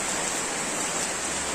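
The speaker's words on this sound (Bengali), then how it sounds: "বৃষ্টিটা আরো বেড়েই চলেছে, মনে হয় টানা বৃষ্টি হবে কয়েকদিন।" Heavy rain pours steadily and without a break, a dense, even hiss of water falling nearby with no voices over it.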